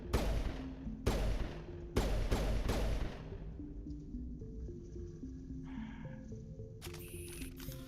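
Several loud gunshots in the Mass Effect video game, fired at the floor in quick bursts around the first three seconds, followed by a low humming game soundtrack and faint interface beeps.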